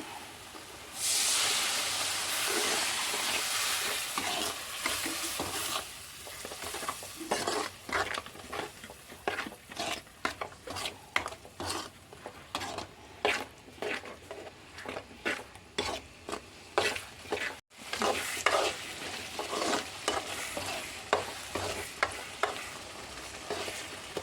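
Vinegar poured into hot garlic pickle bursts into a loud hissing sizzle, followed by a long series of rhythmic stirring scrapes through the bubbling mixture in the pan, with no voices.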